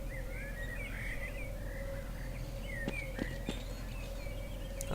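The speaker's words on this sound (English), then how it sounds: "I don't know about that wind sound, but I feel like that doesn't match very well with the bird noises" In a video game map, bird calls chirp and warble over a steady low wind ambience, with a few sharp clicks late on.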